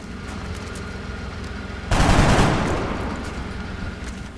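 A burst of gunfire from troops in the XCOM video game, one loud volley crashing in suddenly and then fading over a couple of seconds against a steady background hum.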